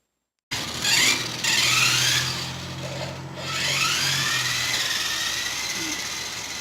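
A vintage 1984 Nikko Big Homer 1:18-scale RC buggy runs on its own with the throttle stuck on, its electric motor giving a steady whining buzz that dips briefly midway, then holds loud and close for the rest of the clip.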